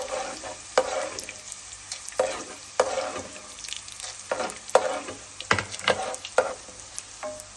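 Cluster beans frying with chana dal in a pan over medium heat, with a sizzle under repeated loud clanks and scrapes of a spoon as they are stirred, close and irregular.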